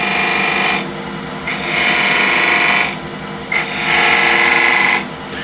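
A big square scraper rasps across an ash wood box, cutting grooves in three long, loud scraping strokes separated by short pauses.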